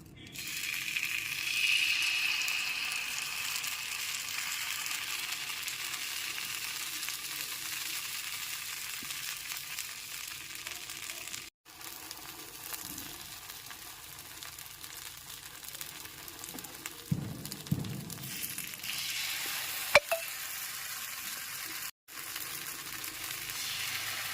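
Rice batter poured into the oiled cups of a chitai pitha mold sizzles as a long, even hiss, broken by a few brief clinks and a short knock near the end.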